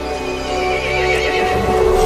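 A horse neighs loudly in a long, shrill whinny that carries over a busy, steady backdrop, from the video game Resident Evil Village.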